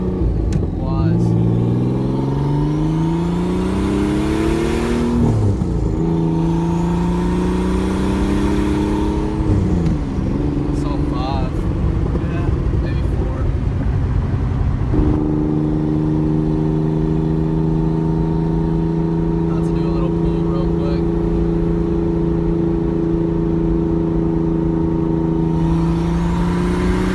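A turbocharged car with 350,000 miles pulls out and accelerates, its engine droning loud and close with rising harmonics through repeated shifts, and a steady engine roar holds throughout while people talk over it.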